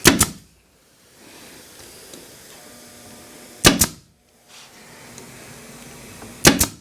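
Three sharp, loud mechanical snaps of a crown stapler fastening hardware cloth to a chicken coop, spaced a few seconds apart, each a quick double crack, with quiet handling noise between them.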